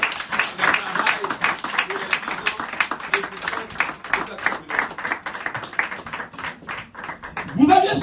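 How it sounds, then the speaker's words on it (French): Clapping from a church congregation rises and falls in uneven bursts during a pastor's address honouring a founding member, with voices talking over and between the applause throughout. "Applaudissez la membre fondateur."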